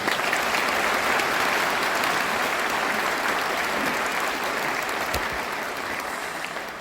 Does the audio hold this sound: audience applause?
yes